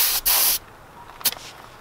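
Air hisses in two short bursts while a caravan tyre is topped up, the first a loud steady spray of about a third of a second, then a briefer, fainter puff after a pause.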